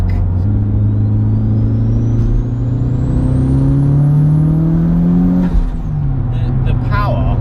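Modified 501 bhp Mitsubishi Evo 7 accelerating hard, a loud steady engine roar with rising harmonic tones climbing in pitch, then a brief dip near the end as it shifts or lifts off.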